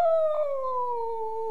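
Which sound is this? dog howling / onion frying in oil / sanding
dog howling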